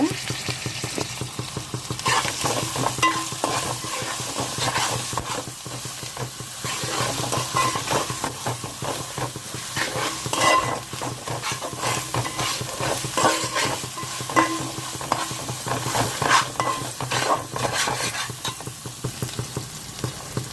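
Mint and coriander leaves fry in oil in a pan while being stirred, giving a steady loud sizzle under repeated scraping strokes with no talking.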